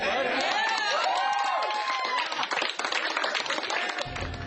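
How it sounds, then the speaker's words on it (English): Customers inside a Wendy's fast-food restaurant in San Jose applaud, a moderate burst of clapping and crowd murmur heard at a slight distance with voices mixed in. "Customers applauded when they heard the news."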